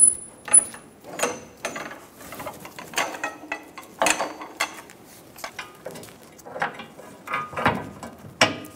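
Ratcheting and clanking mechanical sounds from leaf spring shackle bolts being tightened on a 2014-2018 Chevrolet Silverado 1500 rear suspension, with irregular bursts of metallic clicks and knocks close by.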